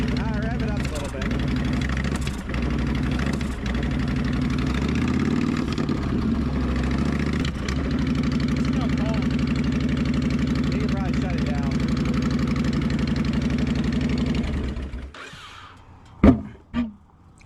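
Engine of a 2004 Honda VTX 1300 motorcycle that has starting trouble and is smoking heavily, running at a steady, loud idle with a deep rumble and slight rises in revs. Voices talk over it, then the engine cuts off near the end and a few clunks follow.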